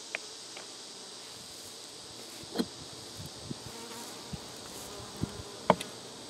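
Honey bees buzz steadily around a hive beside a dead tree in the woods, a continuous insect drone with a few faint knocks and clicks over it.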